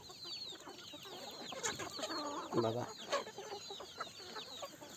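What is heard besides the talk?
country chickens clucking in farm shed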